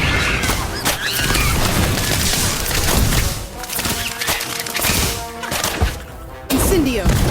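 Thunderbird spell effect from the Harry Potter: Magic Awakened video game, a dense run of crashing booms and whacking impacts that keeps up loudly for several seconds, with game noise layered over it.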